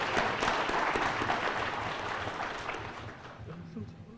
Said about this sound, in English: Let's have a round of applause for all the teams doing amazing things